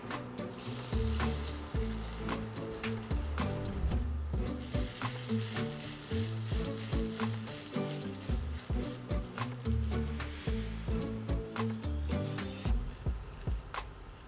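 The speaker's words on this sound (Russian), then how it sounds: "мы выкладываем небольшими порциями наш картофель для того, чтобы он обжаривался" Grated potato pancakes (draniki) sizzle and crackle in a generous amount of hot oil throughout, with scraping and clicking from the pan, loud and close.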